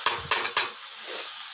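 Okra being tossed into vegetables cooking in a pan over medium heat, giving a few quick clattering, rustling drops in the first half second, then a soft sizzle fading out.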